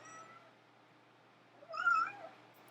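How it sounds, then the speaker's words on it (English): A cat gives a single short meow partway through, close and moderately loud over a low steady background hum. "Kitty."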